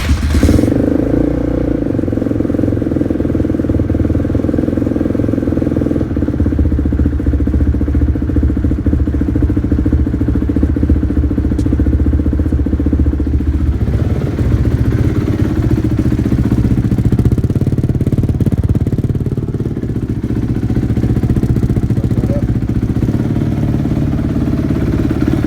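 A 2007 Honda CRF250R dirt bike engine idling after a cold start, a loud continuous mechanical thrum with steady low rumble and slight fluctuation in pitch, running on alone for the whole stretch.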